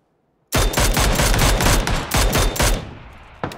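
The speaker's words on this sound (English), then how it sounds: "Aye, somebody shot me there, a good one." Automatic gunfire in PUBG: after a moment of quiet, a loud, close burst of rapid shots rattles for over two seconds, then a single late shot follows, with no talking.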